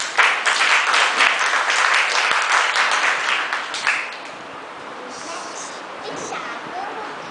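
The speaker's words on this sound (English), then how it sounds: "Now give him a good clap." A church congregation at a kids' program gives a burst of hearty clapping that runs strong for a few seconds, then thins and fades into quieter room noise.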